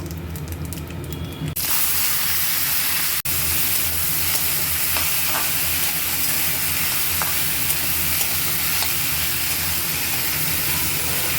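Chopped taro tipped into hot oil left from frying small fish with black cumin, bursting into a loud, steady sizzle after an initial clatter, with occasional stirring clicks over continuous frying hiss.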